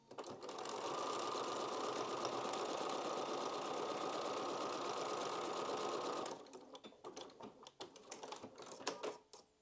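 A sewing machine stitches a butterfly quilt block pieced by foundation paper piecing, running in one long steady buzzing burst before stopping, followed by a few faint clicks and handling sounds.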